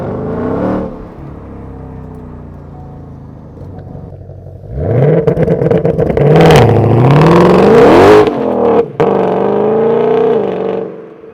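A Shelby GT500 Mustang, 760 horsepower, idles and then launches from a held 2,500 RPM, loud and close, its engine roaring and rising in pitch through a hard run before easing back to a high drone.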